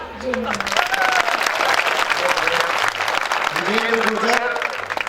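Loud, continuous applause from a Gurjar community crowd at an event in Ujjain, dense clapping that fills the space, with voices and tonal sounds rising over it.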